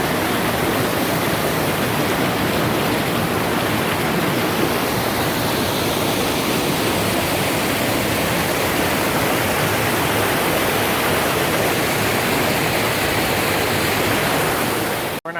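Rushing waterfall on a river in Tanjay, Negros Oriental, Philippines, a steady, loud broadband roar of falling water that holds unbroken throughout with no voices.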